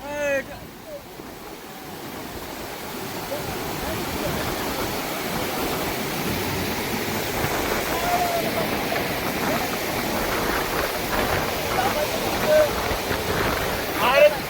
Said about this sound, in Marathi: भीमा नदी वाहत आहे